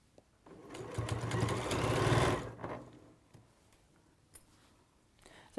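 A sewing machine stitching in a home sewing setting runs in a steady rapid whirring burst for about two seconds, then stops, followed by faint handling clicks.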